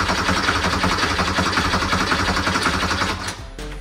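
A 1982 Porsche 911 Slantnose garage find cranks but will not fire, its starter churning in a rapid, rhythmic chugging for about three seconds up close before cutting off.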